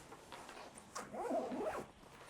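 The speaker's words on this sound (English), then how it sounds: "let's zip it up first." A zipper on a padded camera backpack is drawn closed in one quick sweeping pull, close and fairly quiet, with a brief tug just before it.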